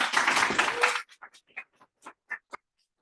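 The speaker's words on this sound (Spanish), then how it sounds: "le damos un aplauso" Applause after a passed degree exam for an engineering physics title: a dense burst of clapping for about a second, then thinning into a few scattered, separate claps that trail off into quiet.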